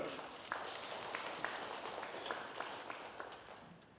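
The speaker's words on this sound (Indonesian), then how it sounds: "Tepuk tangan." Scattered clapping from members of a regional legislative assembly in West Papua, moderate and somewhat sparse, with a few sharper individual claps standing out over a soft room wash.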